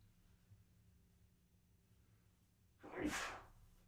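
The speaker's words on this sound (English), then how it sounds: "Knew that sneeze was coming, was just waiting for it to happen." A single sharp human sneeze near the end, close and loud, bursting out of a quiet room background with no talking.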